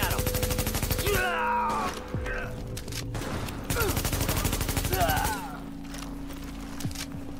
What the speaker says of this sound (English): Keep firing at him!